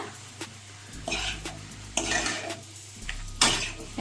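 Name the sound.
stirring fried greens with lentil dumplings and potato in pan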